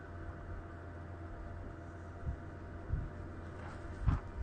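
Electric vehicle charger at a roadside stop on the Nullarbor, Australia, gives off a low, steady hum before charging begins, with a few soft dull knocks and thumps over a constant noisy background.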